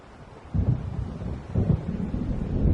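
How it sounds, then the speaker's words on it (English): Low rumbling thunder from an approaching storm in the game Alan Wake rolls in after a quiet start, swelling in two deep surges and lingering as a steady heavy rumble. "It seems there's a storm coming."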